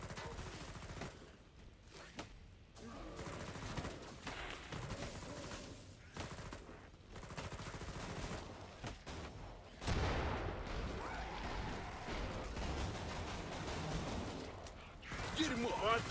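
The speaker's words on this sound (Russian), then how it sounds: "Отличный выстрел." Gunfire in the video game Killing Floor 2, with bursts of shots and weapon mechanism clicks scattered across the stretch and a denser, louder spell of firing and combat noise in the later half, with someone talking now and then.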